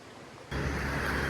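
A mountain stream flows between the hills of Zomin beside a picnic spot. After a quiet start, a steady, broad rush of running water cuts in abruptly and continues close and fairly loud.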